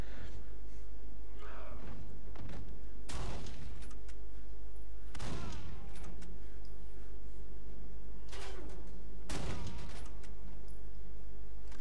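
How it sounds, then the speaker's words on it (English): Pump-action shotgun blasts from the Condemned: Criminal Origins game, four loud, widely spaced booming shots each followed by a short decay, with quieter game ambience between them. "Look, pump action shotgun."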